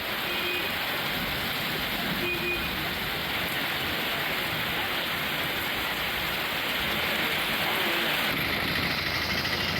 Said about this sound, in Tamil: நேற்றிரவில் திடீரென கொட்டி தீர்த்த மழை